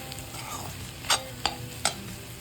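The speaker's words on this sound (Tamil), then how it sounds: "இந்த நூடுல்ஸ் மசாலா அதையும் போட்டுட்டு இதை நல்லா கலரி கொடுக்கணும்." Noodles being stirred with masala and chicken in a hot pan, with a steady low sizzle and three sharp scraping clatters of a utensil against the metal.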